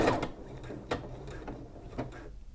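A sewing machine stitching a buttonhole bar tack, with quiet rhythmic mechanical clicks and stitch pulses repeating at close range, no talking.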